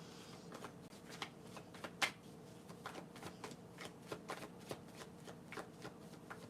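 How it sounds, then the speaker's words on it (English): Tarot cards are shuffled in quick riffling bursts, a soft repeated flutter close by in an otherwise quiet room. "Give me one moment as I shuffle."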